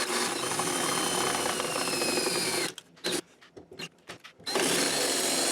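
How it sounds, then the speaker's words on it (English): A loud, continuous whine of a power drill boring a hole with a 3/8 drill bit for a multi-point lock, stopping and restarting in short stuttering bursts before running steadily again. "Now it says to use a 3/8 drill."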